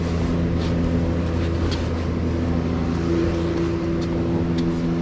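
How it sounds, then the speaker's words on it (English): A Mopar car engine with an upgraded alternator idles steadily after a cold start, a low, even droning hum and faint mechanical ticking, close by and continuous throughout. "the greatest thing about this alternator upgrade is cold start right off the bat"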